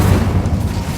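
A brief, loud whooshing boom of a fire spell blast in a wizarding video game, dense and low, lasting about a second.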